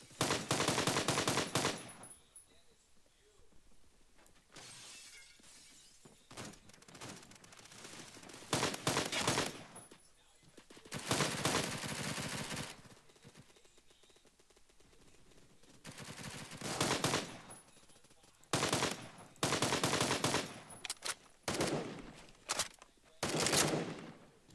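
Gunfire in the Roblox game Phantom Forces comes in loud automatic bursts and clusters of rapid shots separated by quieter gaps, spread over roughly half a minute.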